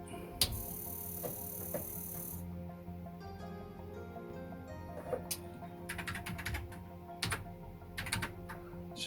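Keystrokes clatter on the built-in keyboard of a Commodore SX-64 portable computer, a few scattered clicks followed by quicker bursts, close and fairly quiet over a steady low electrical hum, with no voices.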